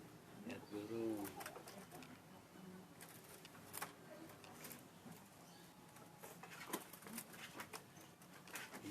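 Pigeons or doves cooing in a caged bird setting, soft calls recurring under a steady hiss of background noise, with people talking nearby.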